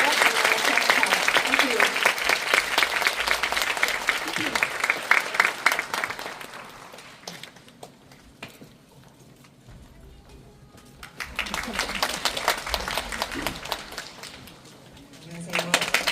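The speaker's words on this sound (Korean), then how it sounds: "나와주신 네 분께 큰 박수를 부탁드립니다." An audience applauds at a film premiere screening during the Busan International Film Festival, with two bursts of clapping separated by a quieter stretch where a voice briefly speaks.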